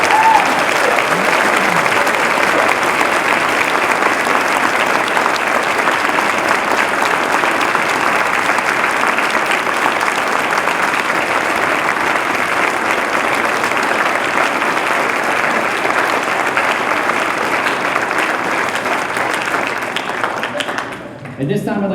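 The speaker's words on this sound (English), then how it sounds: "how about a real round of applause?" A large audience at a National Honor Society ceremony applauds in one long, steady, dense wash of clapping that holds at full strength for about twenty seconds and then tapers off abruptly at the end.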